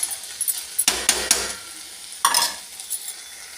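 Okra bhaji (bhendi) cooks in a pan, and a spoon stirs it in a few short scraping bursts over a quiet sizzle.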